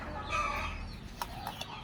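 Desi village hens clucking close by in a short burst, soft repeated clucks over a low background hum.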